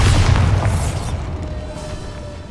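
A Bombarda spell explosion from the Hogwarts Legacy video game detonates with a loud, deep boom at the start, then rumbles and fades over a couple of seconds, heard alone.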